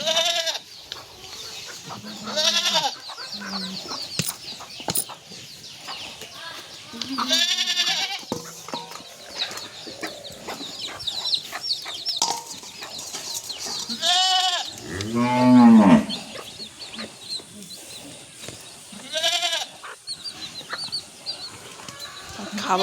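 Black Bengal goats bleat repeatedly on a farm, their calls rising and falling in loud bursts between quieter stretches, while chickens cluck and scratch nearby and a person calls out now and then.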